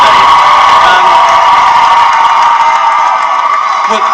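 A massive outdoor crowd cheers and whoops at a Harry Potter and the Deathly Hallows Part 2 film premiere in bad weather, a loud continuous roar of voices that fades slightly toward the end.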